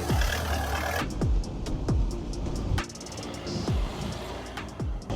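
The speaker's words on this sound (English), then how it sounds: "in a couple of hours, we've got this little Caddy running and driving" A wrecked VW Caddy van, freshly revived during an engine swap, runs nearby with a steady engine drone and a series of rising and falling revs about once a second.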